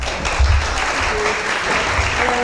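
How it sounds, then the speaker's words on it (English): A lecture-hall audience applauds a speaker being welcomed at a talk, with dense, loud, sustained clapping from many hands filling the room throughout. "That's quite the applause."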